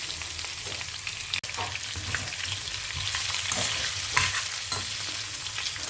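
Snake gourd tossed with fried dal in a pan gives a close, continuous sizzle broken by repeated scraping and stirring strokes, with a brief sharp knock early on and no voices.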